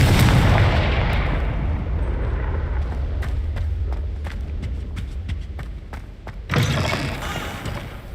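Confringo blasting spell in Hogwarts Legacy sets off a heavy, rumbling explosion that slowly decays into crackling debris and scattered sharp pops, followed by a second loud blast near the end.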